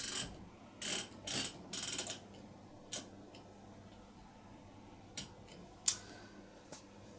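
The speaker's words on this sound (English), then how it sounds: "just like a washing machine programmer, you can only turn the dial one way" A 1982 Bosch T475 electronic tumble dryer's programmer dial is turned one way, giving a run of quiet mechanical clicks and ratcheting ticks, clustered early and then spaced out, close by and faint.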